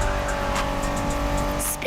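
A 1990s Honda NSX sports car drives in The Crew Motorfest racing game, its engine holding a steady, loud drone with brief tire-squeal flashes, continuous for under two seconds with no voices.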